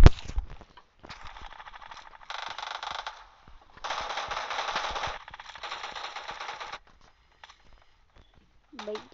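DP machine gun fire in the shooter game PUBG, several rapid bursts of automatic shots of varying length, close and loud, separated by short pauses, with a brief voice near the end.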